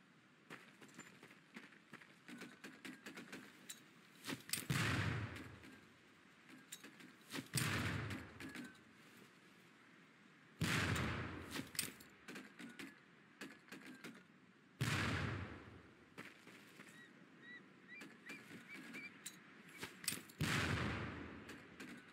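Training grenades in a video game go off as several loud, booming blasts spaced a few seconds apart, each trailing into rumbling decay, with faint clicks and background noise between them.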